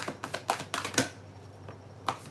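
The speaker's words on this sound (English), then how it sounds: "I am shuffling these cards" Tarot cards are shuffled with quick, soft riffling clicks and taps in short irregular bursts, close by and fairly quiet.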